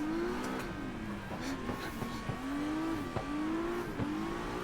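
Simulated drift car in Assetto Corsa, its engine revving up and down in quick pulses as the throttle is blipped, with a steady loud drone and brief tire squeal under a racing mix.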